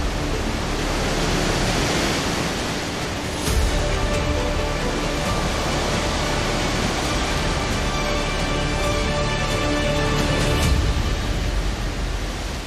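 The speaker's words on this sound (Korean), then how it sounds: "북아프리카 아틀라스 산맥 깊은 곳에서 들려오는 폭포 소리" A 110-metre waterfall deep in Morocco's Atlas Mountains roars as a dense, steady, loud wash of falling water, unbroken throughout with no voices.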